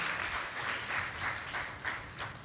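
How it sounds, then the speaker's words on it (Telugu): Applause from a congregation at a church field training programme, a steady close crackle of many hands clapping for the full stretch with no talk over it. "మనము క్లాప్స్ ఇవ్వాలి అమ్మకు."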